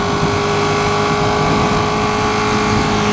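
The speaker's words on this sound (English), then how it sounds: "Nice Ducati sound." A 2016 Ducati 959 Panigale motorcycle engine drones loudly and steadily under a rider at speed, its note mixed with rushing wind across the whole stretch, with no voices.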